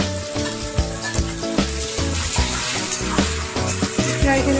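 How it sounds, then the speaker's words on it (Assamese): Onions frying in hot oil with dried red chillies and bay leaves in a pan, a loud continuous sizzle broken by regular stirring scrapes and clatters, with no speech. "অকণমান ভাজি লোৱাৰ পিছত ইয়াতে মই পিঁয়াজখিনি দি দিম"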